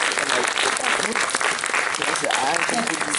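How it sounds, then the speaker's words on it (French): An audience at a stage show breaks into sustained applause, a dense, steady clatter of many hands clapping at once, loud and continuous, with a voice speaking over it. "Applaudissons-les, applaudissons-les."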